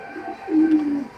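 A pair of racing pigeons coos close by, one short low cooing phrase swelling in the middle and fading, with no other sound over it.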